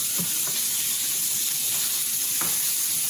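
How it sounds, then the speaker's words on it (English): Pieces of beef steak frying in a pan give a steady, close hiss of sizzling fat, with a few soft knocks and shifts as the meat settles. No one speaks. "we're gonna add the beef to this. Boom. Just shove them in here. Let them cook up."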